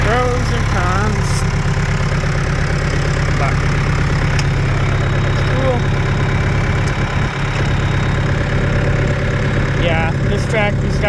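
A John Deere 2350 tractor engine idles nearby with a steady, loud, low rumble throughout, while someone talks over it.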